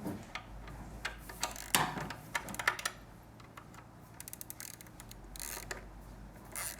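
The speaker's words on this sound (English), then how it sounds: "Using a 12mm socket and a wrench, you want to hold the nut in the back here." A 12mm socket and wrench turn a nut on a motorcycle shock, giving quiet, irregular ratcheting ticks and small metallic clicks up close with no talking.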